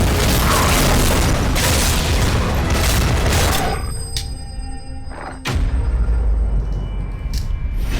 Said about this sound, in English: The big Mega Flare actually does a lot of damage over time